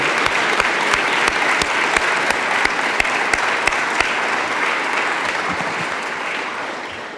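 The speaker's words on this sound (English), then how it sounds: "Let's give these guys a round of applause for everything they do." A crowd at an outdoor recreation partnership event applauds public servants, a steady wash of clapping with distinct rhythmic claps from nearby hands, gradually thinning out toward the end.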